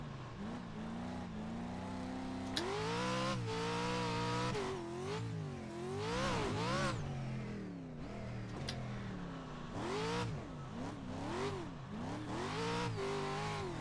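An offroad truck in the iRacing sim revs and shifts continuously, its engine pitch rising and falling through corners and a whoop section, loud and close with no talk.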